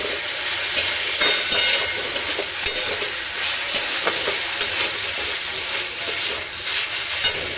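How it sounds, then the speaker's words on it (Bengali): Mustard seeds tempering in hot oil in a home kitchen pan, a steady close sizzle with scattered sharp pops and crackles over the length of the sound, no talking. "একটু সর্ষে ফোড়ন দিয়েছি"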